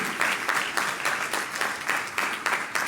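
An audience at a graduation ceremony for fire and EMS cadets applauds for a fire chief, a moderately distant crowd clapping steadily with slight rhythmic swells for a few seconds.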